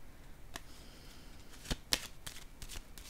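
Tarot cards are handled and laid down during a reading, giving a few crisp slaps and shuffling flicks at close range over quiet background hiss.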